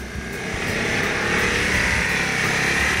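A sport bike's engine hums steadily at low speed as the rider weaves through slow handlebar turns, a continuous moderately loud drone heard from a short distance without talk.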